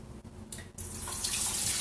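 Hot turkey broth pours in a steady, splashing stream into a colander, starting with a couple of short gushes before settling into a continuous rushing flow.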